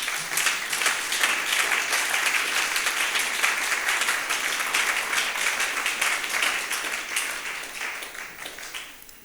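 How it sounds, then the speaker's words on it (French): A church congregation breaks into sustained applause and cheering, dense clapping from a large crowd filling the room at an even level before thinning slightly at the end. "Est-ce que tu peux bénir le Seigneur avec tes acclamations?"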